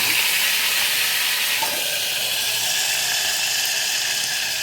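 Chicken fries in hot oil in a kadai, giving a steady, loud, bright hiss and crackle that holds evenly throughout, with no talking.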